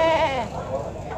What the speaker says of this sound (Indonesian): Ini kambing apa, Pak? Kambing Jawa.